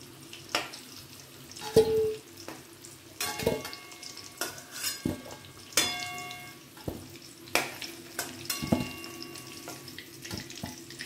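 Potatoes frying in oil over a medium flame, with a soft sizzle beneath frequent close metallic clanks and ringing taps of a utensil against the pan. No talk.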